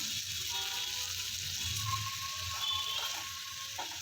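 A handful of green peas frying in a pan with oil, a continuous soft sizzle with faint clicking and stirring noises mixed in.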